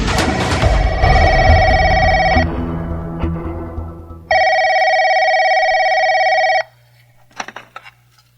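A telephone rings loudly and close in two long electronic bursts with a pause between, followed by a faint rustle as the receiver is handled.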